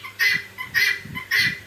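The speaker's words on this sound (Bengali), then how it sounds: "এইগুলা মুরগি যদি আপনি পালেন" Poultry-farm chickens calling, three loud evenly spaced squawking bursts close by with softer low clucking between them, no talking.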